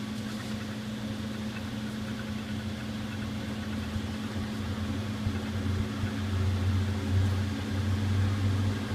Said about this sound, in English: I'm going to go ahead and turn on the fume hood at this point.